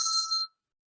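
A single meditation bell struck once during a yoga session, a clear bright ring with a pure tone that fades out within half a second, heard alone in silence.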